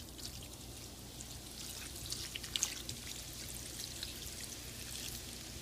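Dark lager beer pours over a chili meat mix in a soft, continuous trickle with fizzing, dripping splashes, close and fairly quiet, with no talking.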